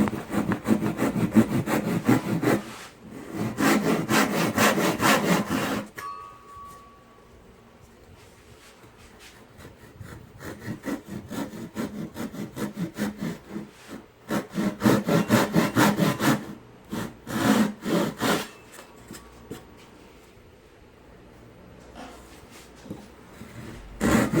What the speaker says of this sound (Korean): 톱질은 선이 표시된 부분까지만 정확히 잘라줍니다.